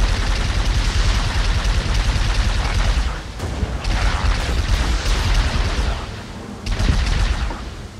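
Turret gunfire in Halo Reach roars in a loud, dense, continuous barrage, breaking off briefly twice before resuming.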